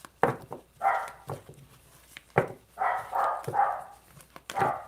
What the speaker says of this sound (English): If you hear my dog, I have to ignore her little butt.